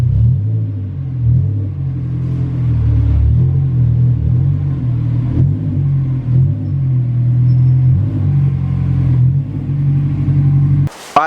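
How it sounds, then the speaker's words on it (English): Honda S2000 eased into a garage, its engine giving a steady low rumble at idle and low revs throughout, with a sharp knock or door thud right at the end. "let's move the car inside the garage and get started"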